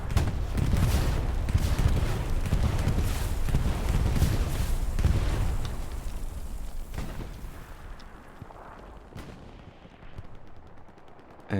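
A bomber attack in Hell Let Loose, a WWII battle game, brings a sustained barrage of loud explosions and heavy gunfire that rumbles on, thinning out toward the end.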